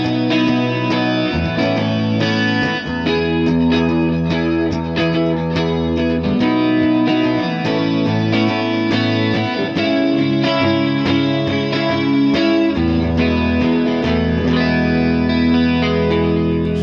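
A Gibson Les Paul Custom electric guitar with P90 pickups, played through distortion, rings out in loud sustained chords and riffs with a chorus-like, echoing effect, continuous and without any voices.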